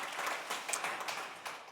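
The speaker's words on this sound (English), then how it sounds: "Yeah, you can clap." Brief audience applause from an event audience, a soft, moderately distant patter of many hands lasting under two seconds.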